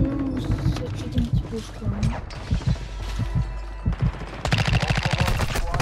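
Call of Duty DMZ gunfire rattles in rapid automatic bursts with impacts and mechanical clatter, loud and close, a long dense volley at the end, while players talk over it.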